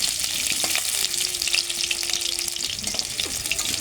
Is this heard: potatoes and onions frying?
yes